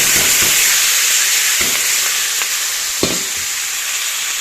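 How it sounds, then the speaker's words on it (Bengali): Fish fries in a wok with a loud, continuous sizzle close by. Occasional clinks and scrapes of stirring break through the steady crackle. "আর দেখো ভাজাটা বসিয়ে দিই"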